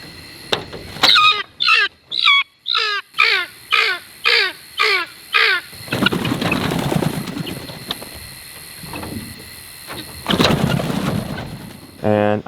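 Guinea fowl call in a rapid series of loud, harsh, rhythmic cackles, about a dozen close, evenly spaced bursts, followed by noisier overlapping squawks and rustling.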